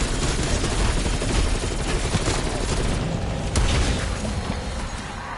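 XM4 rifle in the Call of Duty Cold War video game, sustained loud automatic fire with explosions and battle noise layered throughout, a sharp crack near the middle.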